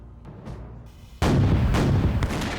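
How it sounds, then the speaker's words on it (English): Heavy cannon bombard the outer wall of an English Civil War castle: a quiet rumble gives way to a sudden loud, sustained roar of blasts and debris. "They bombard the outer wall of this castle with heavy cannon to try and make a breach in the wall."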